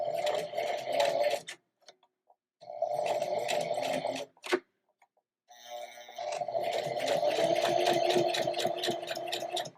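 A sewing machine runs a back stitch on a seam in three bursts of rapid mechanical stitching separated by pauses, with a brief click of the reverse lever between runs, close and steady, without any voices.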